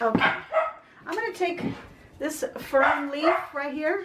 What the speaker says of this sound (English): My husband's home, so she's just barking and happy to see him.